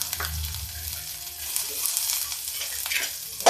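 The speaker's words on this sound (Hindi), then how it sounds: "प्याज भी हम हल्का सा फ्राई कर लेते हैं।" Onion fries in a pan with a steady, close sizzling hiss and occasional stirring scrapes, continuous for a few seconds with no voices.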